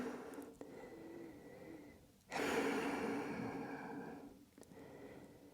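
Deep, audible breathing after exercise during a side-body yoga flow, with a long rushing exhale in the middle and softer breaths around it, close and alone.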